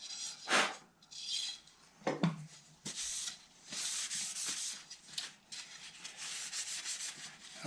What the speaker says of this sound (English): I'm going to sand the top of the neck